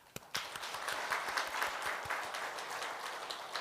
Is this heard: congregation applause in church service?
yes